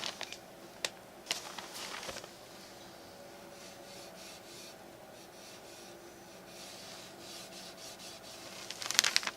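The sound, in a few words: rag rubbing dark walnut stain onto wooden speed loader edge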